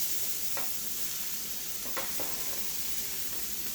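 Food mixture sizzles steadily in pepperoni grease on a Blackstone E Series 22-inch electric griddle, a constant fry hiss with a few soft scrapes and stirring clicks of a spatula, close and moderately quiet, no talking.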